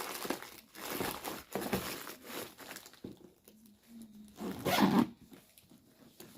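A bag's zipper being pulled open or closed in short quiet runs with soft fabric rustling and crinkling around it, close by and fairly faint; no talking.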